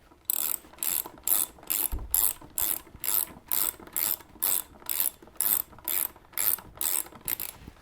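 Ratchet wrench tightening the neck bolts on a Harley-Davidson, a steady run of about fifteen crisp, evenly spaced clicking bursts, close and clear with no talking.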